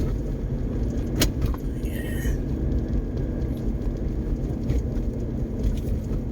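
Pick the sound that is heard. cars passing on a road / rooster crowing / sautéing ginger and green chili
cars passing on a road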